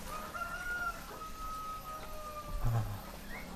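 A rooster crows faintly in the distance in a quiet village beside a fish pond, a long drawn-out call, with a soft cluck near the end over quiet outdoor ambience.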